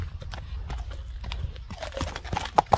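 A horse at a Kyrgyz horse sale, with a short run of hoof clops and snorting close by, ending in two sharp louder bursts, with faint voices in the background.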